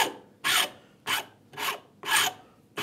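Coarse rasp filing the top edge of a wooden router plane body, five distinct rasping strokes in a steady back-and-forth rhythm, close and clear with no talking.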